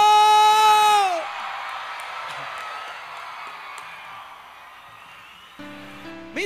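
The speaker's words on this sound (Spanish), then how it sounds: "¿Puede dar un grito de júbilo?" A concert crowd at a Christian music concert shouts and cheers for joy, a broad sustained roar heard at a distance after a sung note ends, with music returning at the end.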